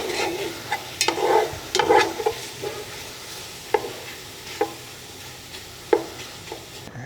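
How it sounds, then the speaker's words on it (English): Steak browns in a pot with a continuous sizzle, broken by several sharp scrapes and clanks of a utensil turning the meat, all heard up close without speech. "browning the meat here."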